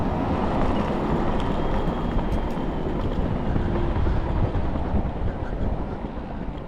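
An Inmotion Climber 1500W electric scooter speeds along outdoors, its motor whine buried in heavy, continuous wind rush buffeting the microphone, loud and close throughout.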